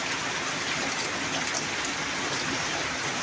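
Dense, steady downpour in Punjab hissing on surfaces, a constant wash of rain noise with no pauses and nobody talking.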